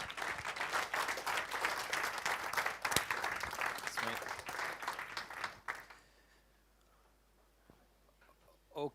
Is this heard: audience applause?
yes